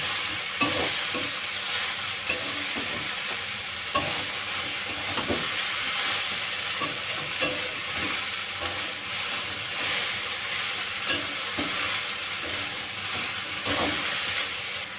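Steady stirring of salted greens in a cooking pot, a continuous sizzling hiss with scattered scrapes and soft knocks of the spoon throughout, close and moderately loud with no talking.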